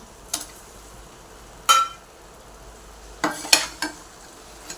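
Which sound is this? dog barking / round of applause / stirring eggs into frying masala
stirring eggs into frying masala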